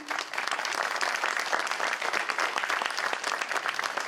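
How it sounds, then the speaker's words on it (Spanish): Steady applause from a crowd, dense clapping that continues evenly throughout without pause. "aplauso para Carlitos Pascualín"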